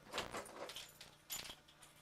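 Keys jingle and clink softly as they drop into a fanny pack pocket, in two brief close bursts of light metallic rattling.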